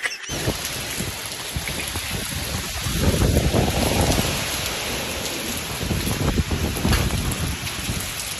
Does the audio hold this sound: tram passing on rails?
no